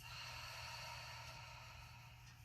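A long, breathy exhale through an open mouth during gentle hatha yoga, close and steady, fading gently toward the end with no talking.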